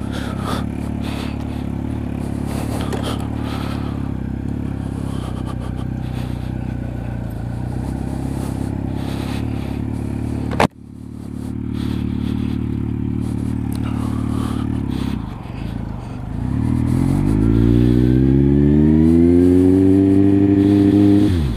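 A 2008 Kawasaki Z1000 with a loud Danmoto Carbon GP exhaust rumbles steadily while riding, heard from close up with wind noise, then revs hard with a rising engine note in the final seconds.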